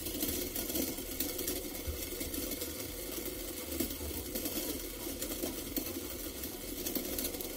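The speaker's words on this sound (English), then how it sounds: "the cell don't have any problems to run this drum motor" A small drum motor runs on a homemade PVA and borax polymer gel electrolyte battery, giving a steady, even mechanical whir at close range with no talking and no change in level throughout.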